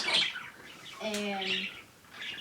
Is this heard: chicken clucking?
no